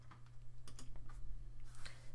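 A couple of quiet, sharp clicks on a computer as an install button is pressed, faint and isolated against a low steady hum, sounding much like light keyboard taps.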